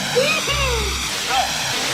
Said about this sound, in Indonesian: Dan ini namanya air terjun kembar.